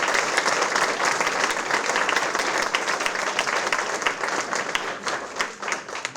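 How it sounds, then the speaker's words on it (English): An audience at a Lafourche Parish school board meeting applauds students, a dense, steady wash of many hands clapping that carries evenly for several seconds with no talk over it. "So give yourself a round of applause"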